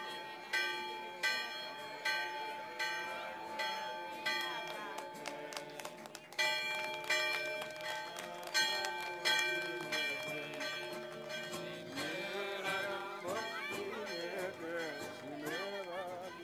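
A church bell on the Greek island of Ikaria rings in repeated, evenly spaced strikes with long ringing overtones, loud and close, with voices under it.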